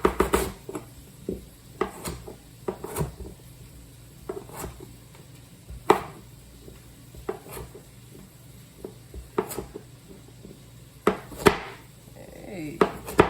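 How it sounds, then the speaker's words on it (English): Food being chopped into pieces on a board after peeling: a steady series of sharp knife knocks at an uneven pace, close and clear, with no talk. "just chop it up into some pieces"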